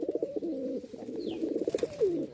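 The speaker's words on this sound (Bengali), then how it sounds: "এই যে ডাক শুরু হইলো, কবুতরের ডাকটাও মাশাআল্লাহ পুরা ঘরের মধ্যে ওই একদম মাথায় নিয়ে আসে" A male Andalusian Magpie Danish pigeon coos indoors, a close, steady stream of rolling, throaty coos that pulse without pause for the whole stretch.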